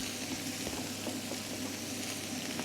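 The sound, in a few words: rice added to a hot wok with browned egg, frying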